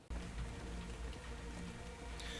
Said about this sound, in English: It's raining again on the server again.